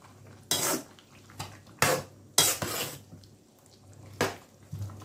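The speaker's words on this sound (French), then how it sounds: "Hop, et je mélange ma viande." Meat with spices is stirred in a pot with a metal utensil, giving several loud clanks and scrapes against the pan with quiet gaps between them and no talk.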